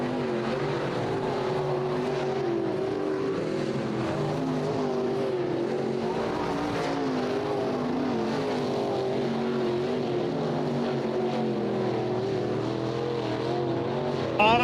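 Race cars on hot laps around a track before the evening's racing, engines droning and roaring continuously at mid distance, layered motors rising and falling in pitch as they circle past, with no break for the whole stretch.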